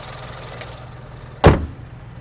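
A 2023 Nissan Rogue Platinum AWD with a 3-cylinder engine idles with a low, steady hum, interrupted by one sharp close thump midway, likely a door or hood closing.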